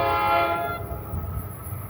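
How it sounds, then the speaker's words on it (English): Train 1118 nears the south end of Hoboken, sounding a loud horn blast that fades after under a second into a low, steady rumble of the approaching train. "Approaching now at 2:36, this train 11:18, south end of Hoboken."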